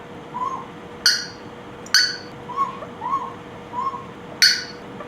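A pet parrot makes sharp squawks and soft whistled calls at irregular intervals, close by in a quiet room.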